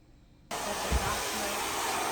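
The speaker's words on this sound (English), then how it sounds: "I do a quick little blow dry with my paddle brush" A hair dryer switches on abruptly and blows a loud, steady close whoosh while hair is dried with a paddle brush, with a brief low thump just after start.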